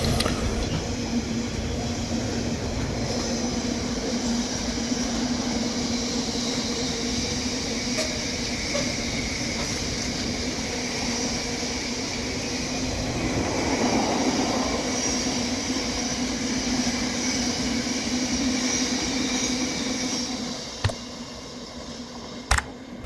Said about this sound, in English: a very timely Class 66 went through the station just before we boarded the train